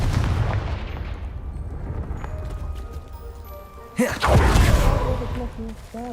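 In the Hogwarts Legacy video game, a Confringo spell blasts a pile of debris. A sudden booming explosion is followed by a second or more of crumbling, crackling rubble over the ambient game sound.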